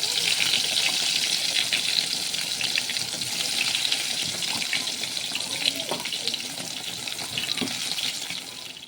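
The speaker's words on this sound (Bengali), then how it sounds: "ওই তেলের মধ্যে এখন বেগুনগুলো বসা দিচ্ছি" Eggplant pieces frying in leftover hot oil, giving a steady broad sizzle and crackle that holds throughout, with a few faint clinks under it.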